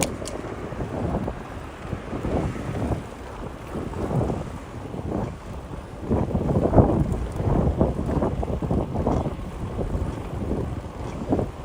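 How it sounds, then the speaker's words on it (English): Wind buffets the microphone during a bike ride on a city loop around a bay, a constant low rumbling roar with gusting swells that grow stronger in the second half, with no talk. "There's that fucking wind."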